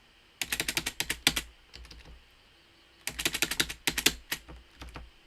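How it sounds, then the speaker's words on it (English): Rapid bursts of computer keyboard key presses, a player hammering the spacebar during a SASUKE obstacle course game, come in two dense flurries of fast, sharp clicks separated by a short lull. "Spam the spacebar!"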